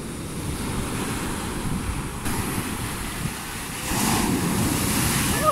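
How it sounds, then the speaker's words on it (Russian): Stormy Mediterranean surf rolling onto the shore at Belek after bad weather, a continuous loud wash of breaking waves with wind buffeting the microphone and a stronger surge building near the end; no voices. "Эта волна была рекордная."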